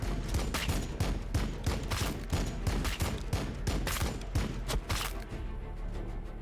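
Rapid volleys of gunfire crack out in a fast, regular rhythm in the Warhammer 40K Battlesector video game, loud and close, stopping abruptly near the end.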